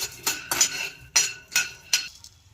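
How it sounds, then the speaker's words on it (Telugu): A handful of peanuts is tossed in a pan to roast, giving five or six crisp rattling clinks against the metal, spaced about half a second apart, close and clear with no talk. "గుప్పెడు పల్లీలు వేయించుకుందాం"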